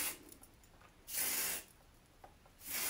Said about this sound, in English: a bit of texture spray